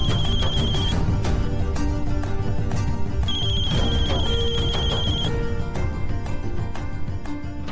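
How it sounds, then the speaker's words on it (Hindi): A telephone rings unanswered in repeated electronic tone bursts, with pauses between rings, over a busy background of dramatic music. "सृष्टि जी हमारा फोन काहे नहीं उठा रहे हैं?"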